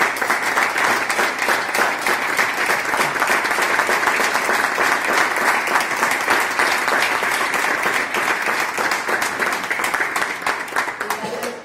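Sustained dense applause from a seated audience at a library's 25th anniversary and renaming ceremony in Móra d'Ebre, steady and loud throughout, fading slightly at the end.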